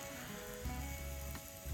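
Meat pan sizzling over an open campfire, a steady bright frying hiss with a couple of louder surges, close and continuous, no voices.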